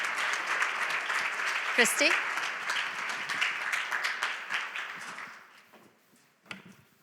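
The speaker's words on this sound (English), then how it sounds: "Can we give our panelists a round of applause?" Audience applause for the panelists at a partner forum, a full patter of clapping that thins and fades toward the end, with a person speaking briefly as it dies away.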